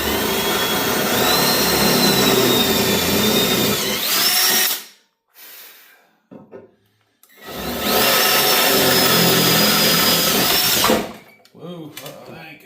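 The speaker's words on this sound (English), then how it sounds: "make sure I don't have it on hammer, I have it on drill" A power drill in drill mode bores into a snow blower part in two loud sustained whirring bursts separated by a short pause, with faint clatter in between.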